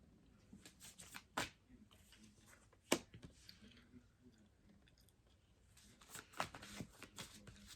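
Tarot cards shuffle softly and close up in a quiet room, a run of riffling and sliding with a few sharper card snaps and no voice over it.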